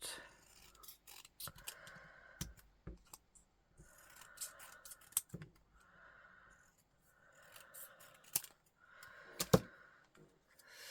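Scissors cutting card paper for a handmade summer-themed card, repeated rasping snips in separate bursts with sharp clicks and handling noises between them, close and fairly quiet.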